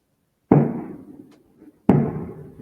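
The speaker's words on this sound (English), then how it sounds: "there's fireworks going on, and I don't know why" Two loud, sharp fireworks bangs go off outside, about 1.4 seconds apart, each with a booming decay and faint rumble between them.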